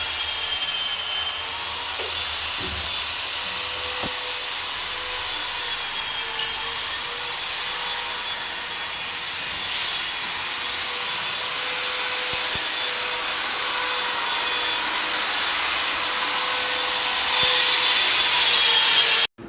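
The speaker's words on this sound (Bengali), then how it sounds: "এই মিস্ত্রি কাকা এখানে পালিশের কাজ করছে ও একাই পালিশ করছে" A mason runs a floor polishing machine over a marble floor in a house under construction, a loud continuous motor whine with grinding drone, steady throughout and rising slightly toward the end, no voices.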